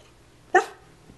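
A single short, sharp dog bark rings out nearby against a quiet background.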